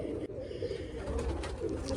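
Pigeons in a crowded loft give a steady, overlapping murmur of low cooing, close and moderately loud throughout.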